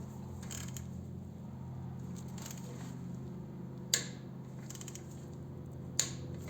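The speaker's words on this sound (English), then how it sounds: "torque down, tighten up your pinch bolt, your front pinch bolt," A torque wrench tightens the front pinch bolt on a 2021 Harley-Davidson Road Glide Limited, giving two sharp metallic clicks spaced a couple of seconds apart over a quiet background hum.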